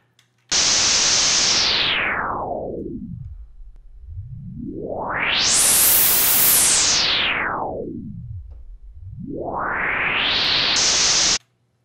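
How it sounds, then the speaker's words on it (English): White noise swept by a resonant low-pass filter rises from a dull rumble to a bright hiss, falls back down, then climbs again, producing loud, smooth whooshing risers with a faintly voice-like quality. "You play the white noise, and then sweep a resonant low-pass filter, like this one, from low to high or high to low."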